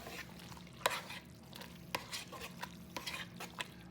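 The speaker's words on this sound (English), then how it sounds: "And we'll stir it all up." A spoon stirs a macaroni and cheese mixture of noodles and sauce in a pot, giving soft, wet scraping with irregular clinks against the side, quiet and close.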